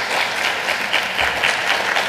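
Audience applause at a community talk, a steady, dense wash of many hands clapping throughout, fairly loud and without voices.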